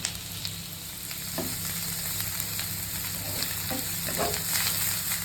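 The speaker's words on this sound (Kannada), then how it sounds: "ಇದನ್ನು ಹಾಕಿ ಒಂದು 3 ನಿಮಿಷ ತಿರುಗಿಸಿದ್ರೆ ಸಾಕು" Green chilli, cashews and coriander fry in a pan with a steady sizzle throughout, while a spoon stirs them in a few brief scraping strokes near the middle and end.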